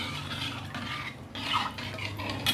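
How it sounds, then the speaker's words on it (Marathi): A spoon stirs cardamom powder into a milk and sugar mixture, making soft, uneven scraping swishes in quick succession, close by with no voices. "आता आपण वेलची पावडर टाकून घेऊयात। ते चांगलं मिक्स करूया।"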